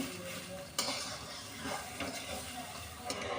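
Rice frying in a pan until transparent makes a steady soft sizzle, with scraping stirs and a few sharp clinks of a utensil against the pan close by.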